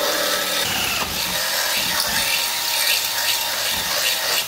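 A power drill bores straight through a metal bracket on a rollover jig for a Mk1 Volkswagen Rabbit, making a loud, continuous grinding whine that holds steady for several seconds close by.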